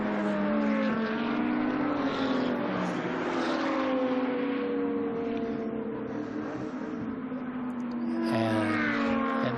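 Porsche and Mercedes GT2 race cars thunder past at Dijon, engines rising and falling in pitch as they shift gears, loud and sustained from start to finish.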